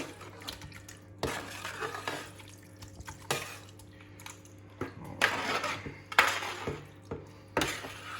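Tomato soup ingredients are tipped from a dish into a heavy-bottomed pot with a series of clanks, scrapes and wet splats spread over several seconds, close by, with no talking.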